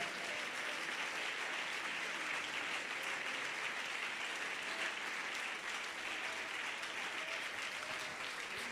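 A church congregation applauds during a Spanish-language worship service, a steady, dense wash of clapping that carries on evenly throughout without pause.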